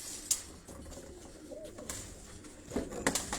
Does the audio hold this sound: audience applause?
no